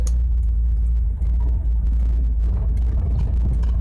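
A 1957 Ford Fairlane hardtop rolls into a dealership in Rogers, Minnesota, its V8 giving a deep, steady low rumble with slight throttle swells, close and continuous with no talking.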